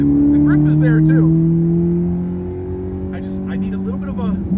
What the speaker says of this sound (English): this car might have a little bit of exhaust work because it sounds phenomenal